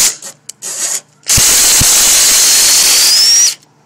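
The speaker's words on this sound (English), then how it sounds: "I'm going to use your trusty handy dandy impact 3/8 drive wrench." A cordless 3/8-inch drive impact wrench on lawn tractor oil pan bolts: a few short whirring bursts, then a long loud high whine of about two seconds that rises slightly in pitch before stopping.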